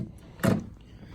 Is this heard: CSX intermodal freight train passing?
no